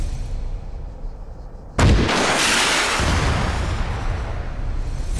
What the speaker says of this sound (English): I decide it may be best to go ahead and hit it now before engaging the depot, so I make my way as close as possible and send a rocket downrange